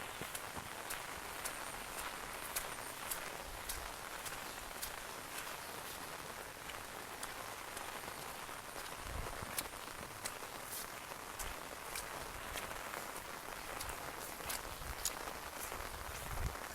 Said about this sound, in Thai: ฝนนี่ตกบ่ยอมเศร้าเลยพี่น้องเอ้ย